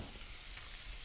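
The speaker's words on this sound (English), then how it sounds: "then I will add the onions" Onions frying in a pot of oil for pheasant stew give off a steady, even sizzle with a soft, constant hiss. It is fairly quiet and continuous, with no voices.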